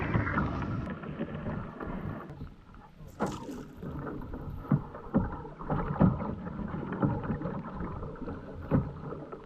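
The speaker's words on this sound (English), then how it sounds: "Skipping the portage between Mud Channel Lake and Boulder Lake by paddling through this narrow" A canoe is paddled through a narrow, shallow channel between lakes in Temagami, with soft irregular paddle splashes and scraping knocks over quiet outdoor ambience and occasional wind rumble.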